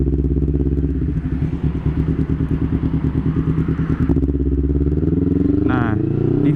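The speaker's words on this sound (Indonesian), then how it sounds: "Gue mau riding santai aja, sekalian manasin motor." Kawasaki Ninja 250 FI motorcycle engine warming up early on a Saturday morning, a close, loud, rhythmic chugging idle with pulsing beats, then a smoother rev near the end, with someone talking over it.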